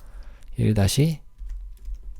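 Keyboard shortcut keys pressed on a computer in Photoshop, a short burst of close taps with a voice speaking briefly over them.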